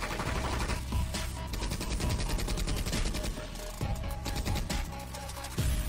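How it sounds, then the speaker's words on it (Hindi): Rapid gunfire crackles in dense, continuous bursts during a fight scene in a Hindi audio drama, loud and close, forming a sustained exchange of shots. "वहीं ड्रैकन एक्सेस और वेनम वेब के बीच में फायरिंग शुरू है।"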